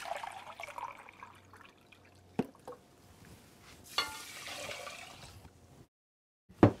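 Two cups of water splash and trickle into a pot holding a cup of rice, with a few sharp knocks and clinks along the way, then a brief silence and a final clunk.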